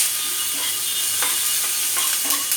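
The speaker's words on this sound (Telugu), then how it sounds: "ఇలా వేగుతూ ఉన్నాయి కదా, కొంచెం లైట్గా వేగుతూ ఉన్నాయి కదా" Ingredients for potato kurma fry lightly in a pan, including cashews and tomatoes, with a dense, continuous sizzle and occasional stirring clatter up close.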